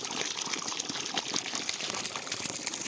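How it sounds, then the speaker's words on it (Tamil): Steady gush of water pouring out from a 450 W BLDC solar pump driven by a single 550 W bifacial solar panel, a loud, continuous rushing flow heard close up with no pauses. "ஒரே பேனல் ஐநூற்றம்பது வாட்ஸ் பைபேசல் சன்பனில் ஒரு சோலார் பேனல் வச்சு போட்டுருந்தது சூப்பராக தண்ணி வருது பாருங்கள்"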